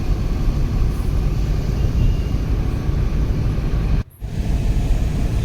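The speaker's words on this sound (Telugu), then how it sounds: "ఇంకా మన కారు రోడ్ ఎక్కింది, మంతని దాటింది." A car driving along an open, lightly trafficked rural road, a loud, steady engine and road rumble close to the microphone that briefly drops out before resuming.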